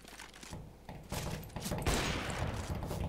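Rapid gunfire in the video game CS:GO, a burst of dense, overlapping shots rising in loudness over a few seconds.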